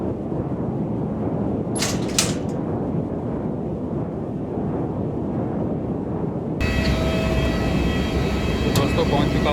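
Airliner landing at Sharjah, a steady loud engine roar filling the cabin throughout, with a brief high whine early and a brighter, rougher rumble toward the end as the aircraft rolls out.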